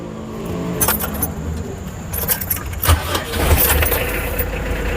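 A Mitsubishi L300 campervan engine starts up, giving a steady, fairly loud mechanical rumble with a few sharper bursts and rattles over about five seconds, close by.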